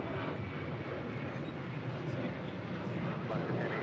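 United Airlines Boeing 787-10 Dreamliner departing runway 25 right at Los Angeles International Airport, a broad steady jet engine roar heard from a distance, with wind buffeting the microphone and voices talking over it.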